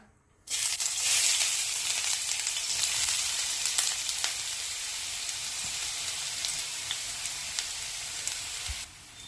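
Finely chopped onion hits hot oil in a pan and sizzles loudly and evenly for several seconds, a bright crackling hiss with small pops, then cuts off abruptly.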